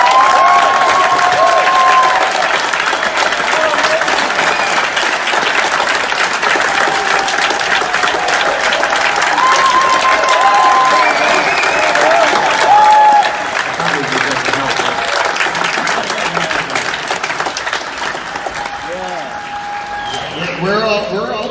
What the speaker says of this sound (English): give Bob Lazar a hand